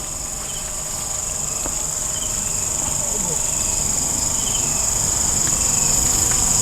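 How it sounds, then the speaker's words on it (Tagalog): Crickets and other insects chirp steadily and loudly at night on a farm, forming a dense continuous drone that grows slightly stronger, with no talk over it. "Talagang rinig na rinig natin yung mga kulisap."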